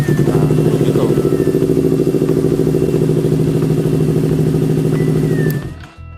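A Yamaha R25 motorcycle engine idles just after starting, a loud, steady, even thrum up close. The engine cuts out near the end and the noise falls away.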